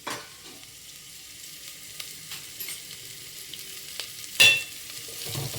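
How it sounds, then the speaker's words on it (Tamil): Radish and other vegetables sauté in oil for sambar, a soft steady sizzle with occasional stirring scrapes and one louder clatter near the end. "கொஞ்சம் நல்லா இந்த மாதிரி எண்ணெய் விட்டு வணக்கி விட்டுக்க"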